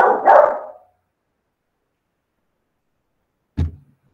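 A pet dog named Baleia gives one loud bark close to the microphone indoors, then after a silence a brief thud follows.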